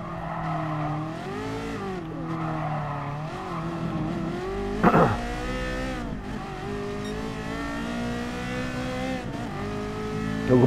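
A 1984 Ferrari GTO race car driven in the video game GT Sport: a loud, continuous engine note rises and falls through gear changes, with a brief tire squeal or skid midway and no talking.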